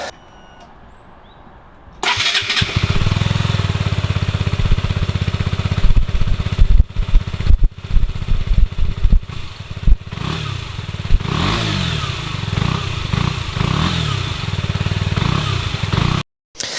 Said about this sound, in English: So I think we're going to start the bike up.